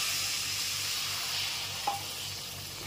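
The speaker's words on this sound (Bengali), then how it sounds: "এরপর এর মধ্যে দিয়ে দিলাম হাফ কাপ মতো গরম জল" Half a cup of hot water hits frying spice masala of Kashmiri chilli powder in a pan for a pomfret fish curry, giving a steady bright sizzle with a brief splash, alone and close.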